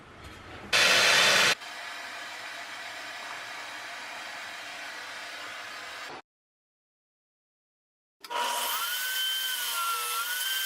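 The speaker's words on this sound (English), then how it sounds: "So I just cut these slots on the table saw." A table saw cutting slots in scrap wood: a loud, steady whining buzz of the blade through the board, with a brief harsher burst as the cut begins, a sudden stop into silence, then the saw spinning up again.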